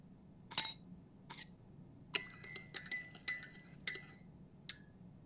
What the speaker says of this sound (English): Now let's give it a stir.